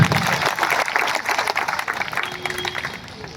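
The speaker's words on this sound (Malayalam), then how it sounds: "അതിനാണ് നല്ല ആഞ്ഞ കൈയടി വരേണ്ടത്" A political rally audience in Guruvayur breaks into loud, sustained applause, dense clapping filling the space with crowd noise throughout.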